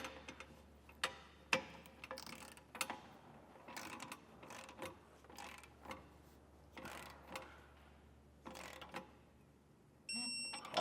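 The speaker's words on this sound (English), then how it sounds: "we can go ahead and torque down our bolts to the manufacturer specifications" Torque wrench clicking repeatedly as bolts are tightened on an airbag bracket for Air Lift LoadLifter 5000 Ultimate air helper springs, a series of sharp, close ratcheting ticks in irregular bursts over quiet background.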